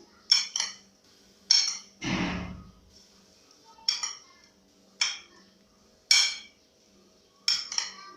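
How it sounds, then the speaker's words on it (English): A spoon taps and scrapes in a bowl as a creamy fruit salad with yoghurt and sultanas is mixed, sharp separate clinks in irregular pairs, close and clear, with one duller knock partway through. "So I'm mixing all of them because my guests are here."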